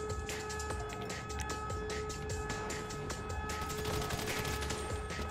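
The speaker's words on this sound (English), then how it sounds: "Fireworks!" Fireworks go off in Grand Theft Auto V during a snowy fight. Dense, rapid crackling bursts pop continuously, fairly loud, over steady tonal hums, with no talk.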